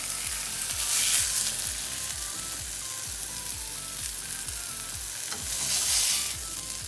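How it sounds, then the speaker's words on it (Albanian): Chicken fillets fry in a hot pan, a steady close crackling sizzle with rhythmic soft scraping or stirring strokes, surging slightly louder at moments, with no talking. "Tani heqim filetën e pulës dhe vendosim direkt tek tava."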